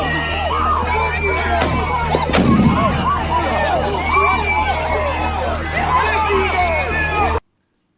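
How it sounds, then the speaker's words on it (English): Flashbangs and pepper balls are fired at protesters, with sharp bangs cutting through a loud, chaotic crowd of shouting voices, the clamour continuing throughout until it cuts off abruptly at the end. "They clear the protesters with flashbangs, chemical irritants, and pepper balls."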